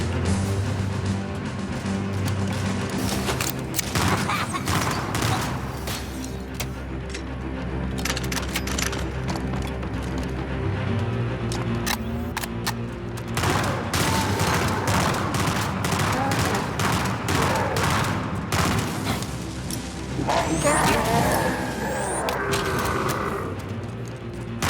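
Intense Halo campaign firefight: rapid volleys of weapon fire and bursts crackle continuously at close range, loud throughout, with brief voices heard over the battle.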